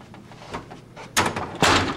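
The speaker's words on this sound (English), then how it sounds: "You gotta close the door now." A door pushed shut, with a muffled thud and then a second louder bang of it closing, over low background rumble and no speech.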